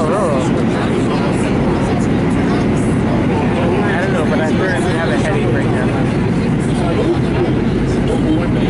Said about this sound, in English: why does it sound like the Long Island Railroad?